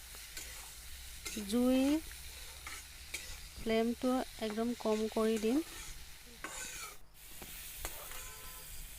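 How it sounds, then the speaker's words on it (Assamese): Tomatoes with salt sizzle in a pan while being stirred, a soft steady frying hiss running beneath a person speaking in bursts. "নিমখ দি আকৌ ভালদৰে ভাজি ল'ম। এনেকৈ মই 2-3 মিনিট মানৰ বাবে ভাজি থাকিম।"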